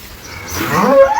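Sahiwal cattle in a farm shed let out a single short, loud moo that rises and swells toward its end, heard close with no talk.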